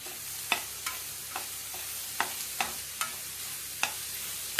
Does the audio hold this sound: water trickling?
no